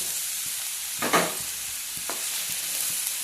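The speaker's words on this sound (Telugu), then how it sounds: "ఇప్పుడు బీరకాయ ముక్కలు వేసుకుందాం." Pieces of ridge gourd fry in hot oil in a pot for a village-style chutney, with a steady bright sizzle and a couple of short scraping stirs near the middle.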